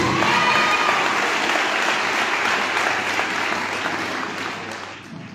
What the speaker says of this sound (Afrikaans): Kan net vir Monica ook 'n hande klap gee